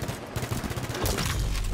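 Rapid automatic gunfire in the video game Halo 5 Guardians Warzone mode, a dense stream of close shots followed by a heavier burst and boom.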